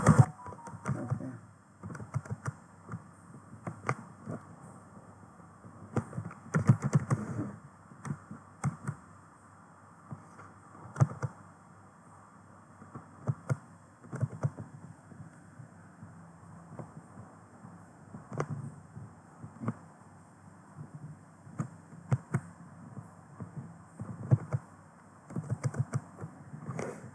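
An IP address is typed on a computer keyboard in quick, irregular bursts of soft clicking keystrokes, close and fairly quiet, alone without speech.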